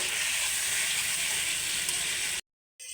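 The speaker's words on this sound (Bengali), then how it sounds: "অল্প অল্প জল দিয়ে ভালো করে কষে নেব" Chicken and potato korma masala fries with a splash of water in a pan, giving a loud, dense hiss of sizzling that cuts off abruptly near the end before faintly resuming.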